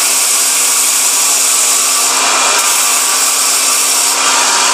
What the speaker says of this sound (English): So first step of grinding, a little machine like this. Just go in there, grind it right down.